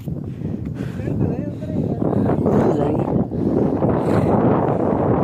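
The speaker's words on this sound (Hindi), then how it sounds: "पहाड़ी के ऊपर से शानदार हवा चल रही है" Strong wind blows across a hilltop near a temple site, a loud, gusting roar with buffeting on the microphone that rises and falls throughout.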